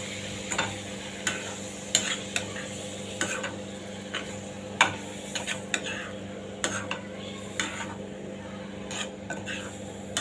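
Two small chopped tomatoes being stirred and sautéed in a pan for a Tamil-style shark fish thovaran, with a soft steady sizzle and repeated scraping spoon clicks against the pan, close and moderately loud.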